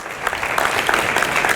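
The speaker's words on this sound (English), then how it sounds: "can we give the leadership team a big round of applause" Audience at a university leadership keynote giving a round of applause, loud, dense clapping that holds steady from start to finish.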